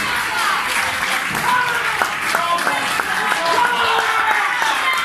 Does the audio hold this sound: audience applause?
yes